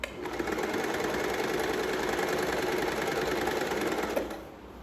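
An electric sewing machine stitches a suit, running in one continuous fast whirring, clattering burst of about four seconds that starts abruptly and cuts off, close and clear with no talking.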